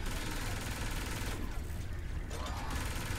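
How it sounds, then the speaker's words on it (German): Continuous gunfire in Saints Row IV co-op play: a dense, rattling barrage of rapid shots runs throughout at steady loudness, briefly thinning in the middle before picking back up. "Und ballern, was das Zeug hält"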